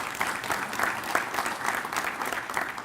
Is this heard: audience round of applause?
yes